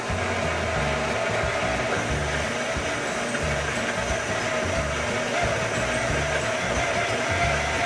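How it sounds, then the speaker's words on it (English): An electric mixer kneads pan de muerto dough, its motor giving off a steady, loud whirring drone with a low rumbling churn that holds unbroken throughout. "And we start the mix."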